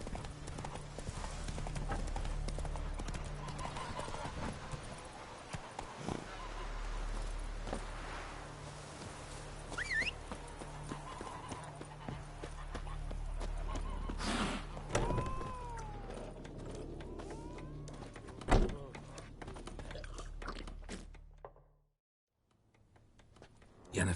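Roach, the horse in Witcher 3, galloping with steady rhythmic hoofbeats under light ambient game sound, a few louder thumps along the way, before the hooves fade out near the end.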